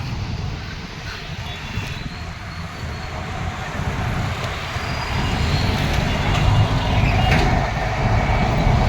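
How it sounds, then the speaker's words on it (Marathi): A Pune Metro train at PCMC station, heard as a steady low rumble and hiss that swells slightly toward the end, with faint voices in the background. "बघा आपण याच मेट्रोने आलो"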